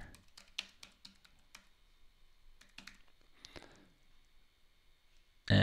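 Typing on a computer keyboard, a quiet, close, irregular patter of key taps in short bursts, ending with a sudden louder burst of noise.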